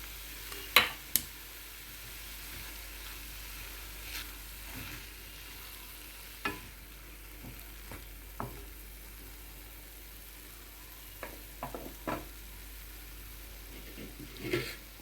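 Moong dal stirred into a pan of frying spinach (bachali kura), tomato and eggplant: a faint, steady low sizzle with scattered sharp scrapes and clicks of a spoon against the pan, and no voices.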